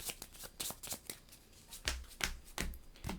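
Cards from the board game Imperium: Horizons are shuffled by hand, a close series of quick papery riffles and taps in short bursts.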